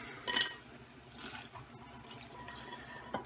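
Fiddleheads tossed into a pot of boiling water give a quick wet splash and plop near the start, then a faint liquid trickle and light clinks fade out quietly close by.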